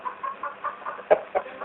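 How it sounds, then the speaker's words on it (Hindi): A rooster clucks quietly and uneasily in a Hindi radio drama, a series of soft, low clucks with two slightly sharper calls near the end, heard alone at close range. "ये उस कोने में मुर्गा भी कैसा सहमा सा बैठा है"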